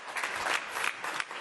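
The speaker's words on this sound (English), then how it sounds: "I want really a big applause for all these people you don't see behind" Audience applause at a magic conference session, given in honour of the behind-the-scenes staff: a dense, steady wash of many hands clapping, moderately loud and close, swelling and easing slightly over a brief stretch.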